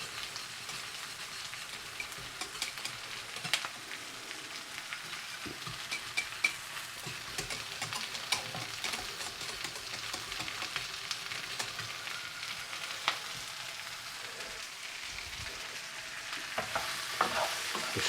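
Chunks of Spam fry in a thickening curry sauce, giving a soft continuous sizzle and bubbling with occasional light stirring scrapes, steady and moderately quiet throughout.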